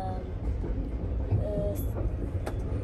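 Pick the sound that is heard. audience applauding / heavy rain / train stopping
train stopping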